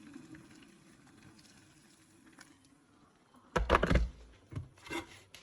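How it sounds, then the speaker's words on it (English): Boiled kettle water pours over noodles in a bowl, a short rushing, splashing pour after quiet, followed by a few lighter trickles and clinks. "Kettle's boiled now. So we'll put some water over our noodles."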